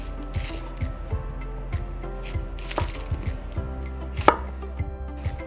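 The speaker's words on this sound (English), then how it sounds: "chop, chop, chop fine, chop fine. You could use a grater for this, a certain kind of grater, but I like to do it by hand." Onions chopped by hand with a knife on a board, a steady run of close, crisp taps at an irregular quick rhythm with a low background hum.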